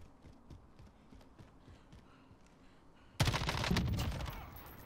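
Gunfire in Call of Duty Warzone: soft rapid footstep-like taps give way to a sudden loud burst of sustained automatic fire that rattles on for nearly two seconds before easing slightly.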